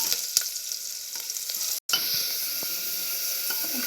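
Red chili powder frying in hot oil in a pan, a bright continuous sizzle close by, with a few light utensil knocks and a brief silent break partway through.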